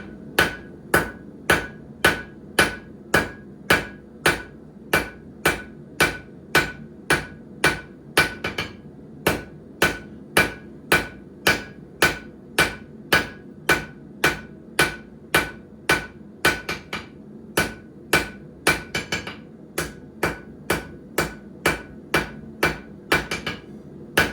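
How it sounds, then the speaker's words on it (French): Hammer forging on a piece of steel being flattened: a long, steady series of sharp ringing blows, about one or two per second, close and loud with no talk. "ce qu'on va commencer à faire, c'est aplatir mon morceau d'acier"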